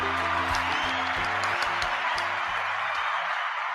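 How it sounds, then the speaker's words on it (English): A studio audience on a morning TV show claps loudly and steadily, a dense wash of applause with music playing underneath that tapers slightly at the end. "Let's bring Astrid on. Nice big round of applause."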